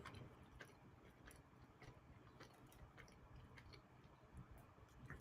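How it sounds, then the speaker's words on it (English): Crunchy bagel being bitten and chewed, with soft repeated crunching and clicking mouth sounds, close and quiet, no talking. "Time to eat the bagel here."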